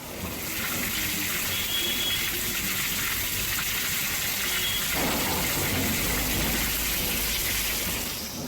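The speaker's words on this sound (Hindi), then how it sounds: "तेज बरसात के बाद सड़कों पर पानी भर गया।" Rainwater gushes steadily across flooded city streets in Jaipur after heavy monsoon-season rain, a dense continuous rushing wash with no pauses.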